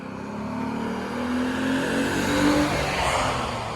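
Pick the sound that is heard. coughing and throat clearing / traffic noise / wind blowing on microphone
traffic noise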